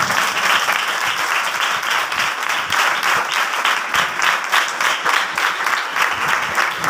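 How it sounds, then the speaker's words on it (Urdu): A church congregation bursts into loud, sustained applause, dense clapping from many hands filling the room for several seconds without pause. "زندہ کلیسیاں زوردار تالیاں."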